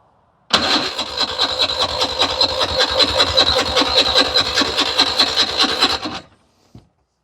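A vintage hovercraft engine starts for the first time in 25 years, catching abruptly and running loud with a rough, rapidly pulsing beat for several seconds before cutting off, followed by a brief knock.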